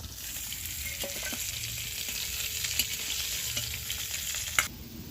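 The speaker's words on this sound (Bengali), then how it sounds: "মাছের মুড়োগুলো ভাজা হয়ে গেছে" Fish heads sizzle and crackle in hot oil, a steady fizzing with occasional sharp pops and a scrape of stirring near the end.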